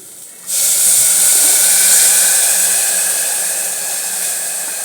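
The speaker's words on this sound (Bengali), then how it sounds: "একটু জল দিয়ে দিচ্ছি এতে আমি" Water poured into a hot pan of oats khichuri sets off a loud, steady steam hiss that starts abruptly after a brief quiet moment and holds strong, fading only slightly toward the end.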